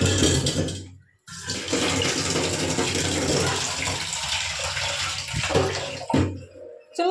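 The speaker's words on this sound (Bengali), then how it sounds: "এখানটা আগে জল দিয়ে দিই" Water pours in a strong, continuous rushing gush to rinse a spot, loud and close, briefly stopping once near the start and trailing off in sputters and splashes at the end.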